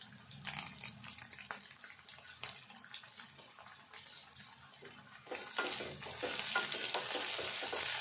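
Garlic, onions and curry leaves fry in a pan with a busy sizzle and stirring scrapes, growing louder and brighter over the last few seconds.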